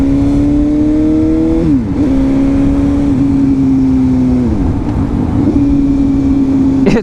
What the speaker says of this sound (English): It's a 750 engine. It sounds amazing.